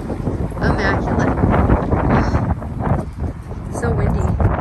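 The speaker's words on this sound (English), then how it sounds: "So windy." Wind gusts buffet the microphone with a low, rumbling roar throughout, while people talk nearby.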